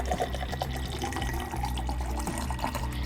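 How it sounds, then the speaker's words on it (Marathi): About two cups of water pour into a pan heating on a gas stove, a loud, close, continuous gush and splash that runs unbroken for a few seconds with no voices over it. "आता एक पॅन गॅसवर गरम करायला ठेवून त्यात जवळजवळ 2 कप एवढं पाणी"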